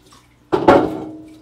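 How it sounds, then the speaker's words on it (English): Water rinsing screen filler out of a screen-printing screen, a sudden close splash and gush starting midway, peaking briefly and then fading over the last second. "So I'm gonna rinse this out a little bit."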